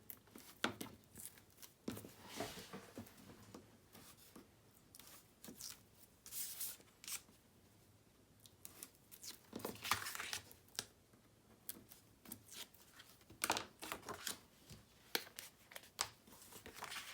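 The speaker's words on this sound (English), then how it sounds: "I'm going to go ahead and get my tape off" Tape peeled in short tearing strips from a paper craft mini album, a series of quiet crackly rips spaced irregularly with pauses between, close and faint, no voices.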